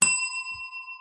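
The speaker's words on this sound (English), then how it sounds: "Billy, ring that bell." A single bright bell strike, like a bicycle bell, rings out loudly and clearly at once, then its pure tone lingers and slowly fades over about a second with no talk.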